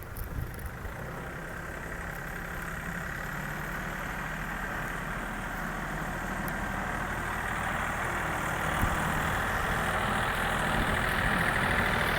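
A used Yanmar 39 hp walking tractor engine runs steadily at idle, a continuous low rumbling drone close by with no talk.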